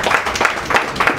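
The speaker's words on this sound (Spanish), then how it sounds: "Un aplauso para Parenti." Brief audience applause for Parenti, a few loud pulsing bursts of clapping close by over about a second.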